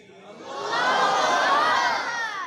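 A large crowd at a religious conference with hamd and naat recitation roars back in unison after a Takbir slogan call, a sustained loud collective chant that swells and holds for a couple of seconds.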